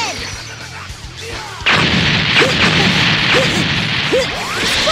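A special big cannon energy blast in the Dragon Ball Xenoverse video game erupts midway as a loud, sustained roar, with sharp whooshing streaks and impact crackles layered over it to the end.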